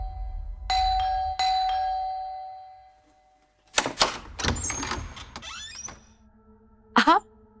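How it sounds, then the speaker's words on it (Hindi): A home doorbell chimes twice in quick succession, bright and ringing, with the tone decaying into quiet; afterwards a door and footsteps clatter and voices speak briefly. "कब से डोरबेल बज रहा है"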